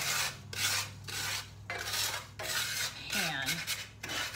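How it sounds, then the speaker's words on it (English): Coarse salt scrubbed across a cast iron pan, giving repeated rough rasping strokes in bursts with short pauses, close and moderately loud with no talking. "salt is gonna work as a coarse agent, and it's gonna help bring up those little bits"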